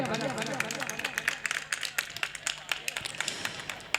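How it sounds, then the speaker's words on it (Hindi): An audience at a mushaira in Jind claps in scattered, uneven bursts, with a murmur of crowd voices underneath. "तालियां बजा कर लीजिए"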